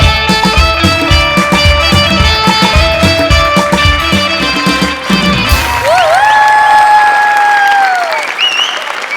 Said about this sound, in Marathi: वा वा वा जोरदार टाळ्या.